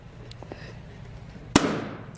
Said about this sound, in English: have you pop 2 of these guys' balloons based off of what you've heard